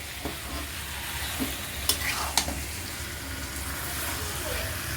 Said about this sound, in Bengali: এবার এটাকে আমি তেলে মাখিয়ে নেবো